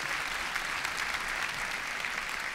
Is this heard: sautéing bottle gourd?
no